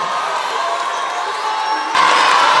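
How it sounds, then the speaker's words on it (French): Audience at a school storytelling day in Kambal cheering and applauding, a steady wash of crowd noise and shouts that swells louder toward the end. "On l'applaudit très très fort"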